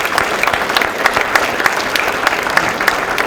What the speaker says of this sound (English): Well, let's give a big round of applause